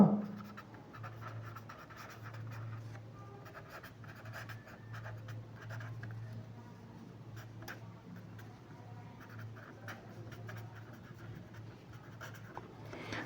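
A pen scratches steadily across paper while a maths solution for a Class 10 matrix exercise is written out, faint close strokes over a low background hum, with no talk.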